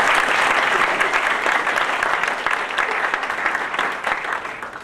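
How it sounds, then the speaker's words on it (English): Audience applause at a Walton County chamber of commerce meeting, a full, continuous round of clapping from a roomful of people, steady and fairly loud before tapering slightly at the end. "If we would just one more time give them a round of applause."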